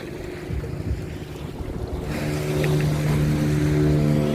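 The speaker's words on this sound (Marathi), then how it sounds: "आवाजही काही नाही फक्त थोडा पाण्याची खळखळ आहे बस" Water gurgles and splashes along the hull of a moving sailing boat, with steady wind noise and a low, constant engine hum.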